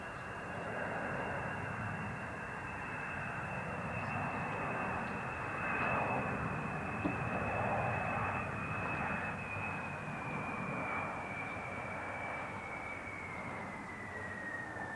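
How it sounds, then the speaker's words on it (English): B-52 bomber engines flying in during the 1999 NATO Operation Allied Force over Kosovo, a steady broad jet roar with a high tone that slowly slides down, loud and continuous throughout. "This is the distinctive sound of the B-52."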